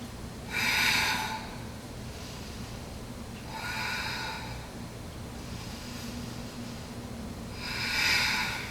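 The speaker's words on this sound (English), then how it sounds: "3 big breaths." Three deep, airy breaths during a yoga flow, evenly spaced, each a strong rush of air close to the mic over a low steady background hum.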